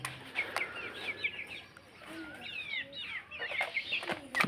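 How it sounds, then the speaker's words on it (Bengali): Tiger chicken chicks give repeated high, thin peeps in quick runs. The peeps are fairly faint, come from close by and are scattered through soft background noise. "এই এখানে দেখতেছেন, আর 5টা টাইগার মুরগির বাচ্চা আছে"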